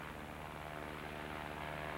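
A propeller-driven aeroplane builds power as it accelerates down the runway toward flying speed, its engine drone steady and loud with no break across the stretch, no voices over it.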